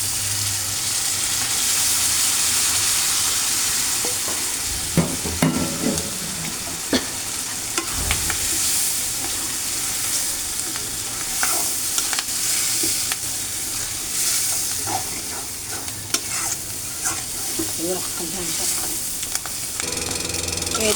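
Catla fish eggs fry in an oiled pan with salt and spice powder, a steady close sizzle broken by repeated scraping and stirring clicks throughout.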